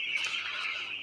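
Faint, continuous high peeping and clucking from a crowd of chickens on a poultry farm, heard briefly without talk.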